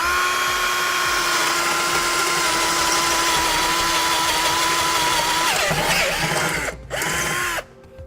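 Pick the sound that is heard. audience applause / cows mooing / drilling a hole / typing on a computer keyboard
drilling a hole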